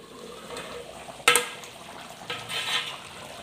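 A metal lid clanks sharply onto a pot of coconut chicken curry, followed by softer scraping and bubbling from the cooking pot.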